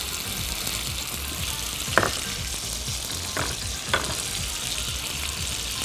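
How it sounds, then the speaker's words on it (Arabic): Cream and parmesan go into a tomato sauce in a hot pan with butter, giving a steady close frying sizzle with a few sharp taps and stirring sounds over it. "وهنزل بالكريمه على صوص الطماطم مع الجبنه البارميزان."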